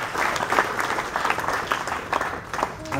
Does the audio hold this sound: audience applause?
yes